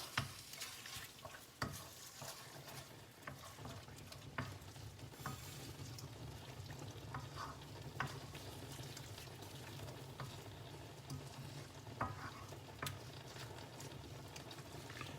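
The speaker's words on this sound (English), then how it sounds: "Keep mixing it so nothing sticks to the bottom." Panang chicken curry being stirred as it fries in canola oil, a steady low sizzle and bubbling under repeated scraping strokes of a utensil in the pan, close and moderately quiet with no talking.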